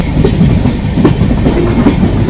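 Rolling rumble and rhythmic clatter of the Kolkata–Agartala special express train, heard close by at an open coach door at night, loud and steady with rushing wind, with no voices.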